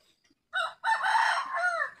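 A rooster crows once nearby, loud and clear, a short opening note followed by a long drawn-out call in near silence.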